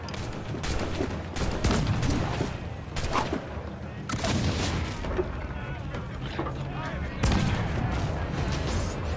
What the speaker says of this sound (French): Utilise tous les canons que tu voudras et n'hésite pas à y rentrer dedans.